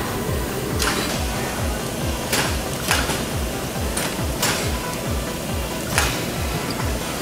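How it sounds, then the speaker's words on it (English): An automatic carousel screen printing press prints shirts, running as a continuous mechanical whir with a fast regular thumping pulse beneath, punctuated by several sharp hissing or clacking bursts at irregular intervals. "Simply load the shirts, they go around the automatic machine, and then they're printed."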